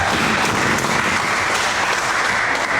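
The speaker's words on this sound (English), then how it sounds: "Listen to that crowd." Loud, dense crowd applause and cheering at a First Nations chief and council election ballot count, a continuous roar of clapping without a break.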